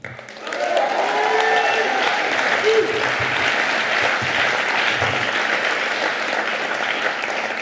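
Young audience at Cédric Villani's speech at the Trianon in Paris applauding, a dense, steady wash of clapping that rises quickly and holds for several seconds, with faint voices and shouts mixed in.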